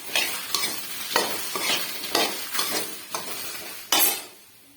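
Okra stir-frying in a pan: about seven rhythmic scraping stir strokes over a bright sizzle, close and clear, stopping abruptly near the end with no speech.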